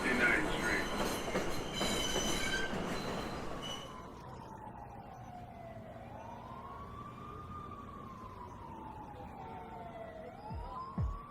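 A New York subway train runs noisily along the tracks, a broad rumble fading into a steady hum as wheels squeal in long rising and falling tones, with a brief clatter at the end.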